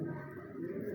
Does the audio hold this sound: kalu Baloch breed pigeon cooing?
yes